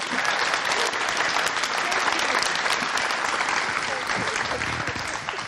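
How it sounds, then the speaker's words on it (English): An audience at an evening event for an Afghan women's advocate applauds steadily throughout, dense clapping filling the space at a constant level, tapering only slightly at the end. "Round of applause before we even start asking questions."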